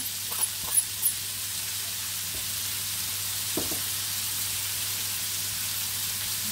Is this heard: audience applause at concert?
no